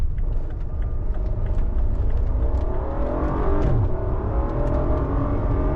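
A BMW F90 M5 Competition with its stock exhaust revs hard, a loud, close, continuous deep engine roar with rising and falling pitch sweeps and a steady rumble beneath.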